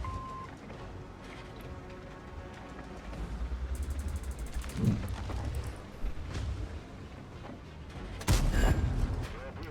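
Artillery fire in World of Tanks rumbles amid battle noise, with heavy low booms and a sharp blast near the end, while someone talks over the game.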